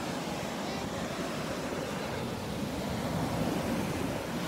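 Ocean waves on a beach during a family vacation, a continuous loud roar of surf with wind noise buffeting the microphone, steady throughout.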